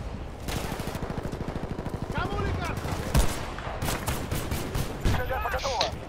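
Rapid automatic gunfire in Battlefield Bad Company 2 multiplayer, a fast rattling burst up close followed by scattered louder shots and distant fire.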